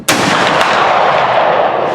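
Winchester High Wall rifle in .45-70 firing a single loud, sharp report at an outdoor Victorian-style rifle match, with a long rumbling echo trailing off over two seconds.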